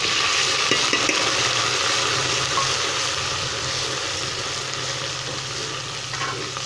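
Ginger, garlic and green chili paste frying with golden onions in a pan for potato pulao, giving a steady, close hiss and sizzle with faint stirring scrapes and no talking.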